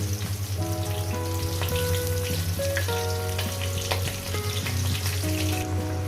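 Coconut-stuffed snake gourd fries in a pan over low gas, a loud close crackling sizzle with scattered pops like rain, going on without pause while faint tonal background music plays underneath and no one speaks.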